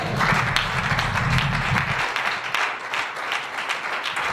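A church congregation applauds during a sermon, a dense wash of clapping with a low rumble under the first two seconds, then lighter, continuing applause; no speech.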